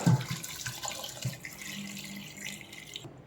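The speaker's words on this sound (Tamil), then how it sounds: "இப்போது இந்த கால் வேகிறதுக்கு தேவையான தண்ணி ஆட் பண்ணிக்கலாம்" Water poured into a pot of lamb trotters for paya curry, a short soft splashing gush that trails off over a few seconds, faint and close with no talking.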